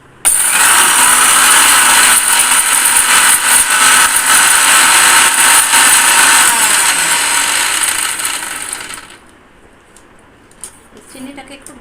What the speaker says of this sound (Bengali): চিনিটাকে একটু গুঁড়ো করে নিলাম।